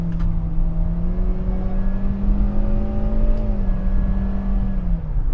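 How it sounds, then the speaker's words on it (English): 2023 Hyundai Stargazer engine at full throttle, heard from inside the car as a loud, sustained rising drone that holds high revs and then eases off slightly near the end. "you can actually hear the high revving engine sound in this car"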